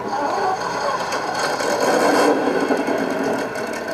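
A Mattel 1/10 scale Justice League Batmobile starts up with a steady buzzing, rasping whir that holds at an even level for several seconds, close and alone.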